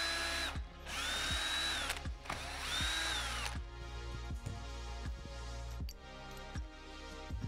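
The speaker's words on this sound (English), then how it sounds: "I will start with disassembling the handle by unscrewing four bolts." Power tool unscrewing bolts on the handle of a Kubicek Ignis Plus hot air balloon burner, two whirring spin-ups followed by a run of rapid ratcheting clicks, close and loud with no talk.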